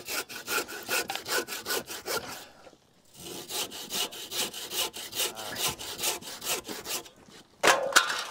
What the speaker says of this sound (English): I'm also going to show you how to notch these out with just a handsaw and a chisel.